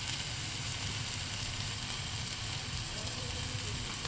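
Crab masala fries in a pan with turmeric just added, crackling in a steady, close sizzle that continues evenly throughout, with no voices.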